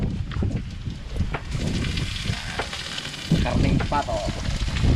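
Steady crackling sizzle of duck meat frying in a pan for duck adobo in coconut milk, fairly close, with occasional stirring and brief clatter, no talk.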